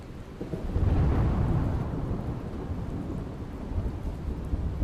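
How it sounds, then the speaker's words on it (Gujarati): Heavy rain pours steadily with strong wind in Gujarat's monsoon while a low thunder rumble swells early on and slowly fades beneath the downpour. "ભારે પવન અને ગાજવીજ સાથે વરસાદનું આગમન થયું."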